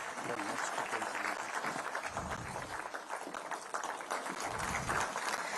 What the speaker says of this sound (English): I'd like the audience to keep reciprocating with the applause